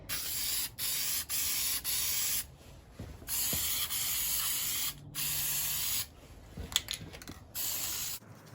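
Maxima FAB-1 air filter oil sprayed in repeated short hissing bursts onto a completely dry dirt bike air filter, close and fairly loud, with brief pauses and light handling noises between bursts.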